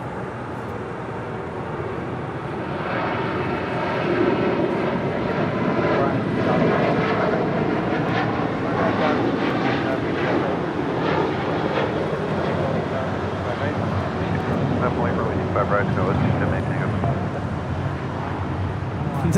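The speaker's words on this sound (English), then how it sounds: "This is Southwest Flight 939 taking off to Houston Hobby on a 737-700" A Southwest Boeing 737-700 departs Los Angeles airport for Houston Hobby, a strong, steady jet roar that swells and holds across the whole stretch, with faint voices underneath.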